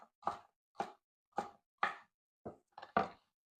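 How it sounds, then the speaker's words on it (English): A knife chops a pepper into cubes on a board, with about seven crisp, close cuts at an irregular, unhurried pace and near silence between them. "just take it, cut it up into cubes a little bit"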